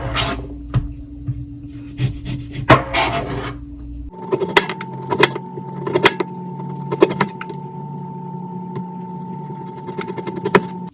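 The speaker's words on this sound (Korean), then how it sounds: "소스에 사용할 레몬을 잘라줍니다." A knife slices a lemon on a cutting board for a marinade sauce, giving sharp, irregular taps and scraping cuts up close. A steady hum comes in partway through and continues under the chopping.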